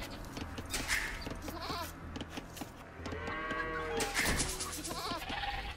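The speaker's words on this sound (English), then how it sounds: "There's enough sheep here, come on." Sheep bleating in the real-time strategy game Age of Empires 2 Definitive Edition, several wavering animal calls repeating over a steady game backdrop of ambient noise, with other livestock-like cries mixed in.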